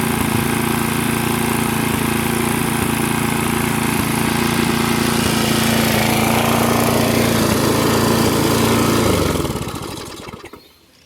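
A neglected walk-behind lawn mower engine runs loud and close with a steady throbbing drone, holding speed for about nine seconds before winding down and cutting out; any occasional miss is buried in the roar.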